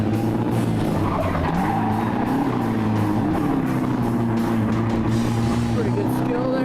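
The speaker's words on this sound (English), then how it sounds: "Give it a nice clutch kick. Try to keep the power up in the upper RPM for some power." A drift car's engine is held at high revs, droning and wavering in pitch as the tyres skid and squeal, loud and continuous, with voices talking over it.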